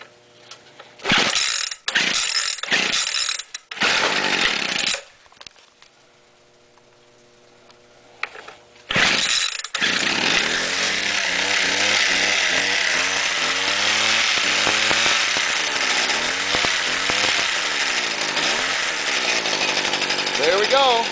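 A Weed Eater hedge trimmer's small two-stroke engine, choke set and throttle locked, is pulled over several times with sputtering attempts, then catches and runs steadily at high revs, loud and close, with a voice heard briefly early on.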